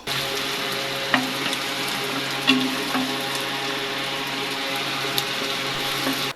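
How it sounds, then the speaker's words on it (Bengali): Onions, chilies and garlic sizzle together in hot oil for a dal tempering, a steady close frying hiss with a few scraping stirs and clinks, no voices. "পেঁয়াজ মরিচ আর রসুন আম্মু একসঙ্গে ভেজে নিচ্ছে"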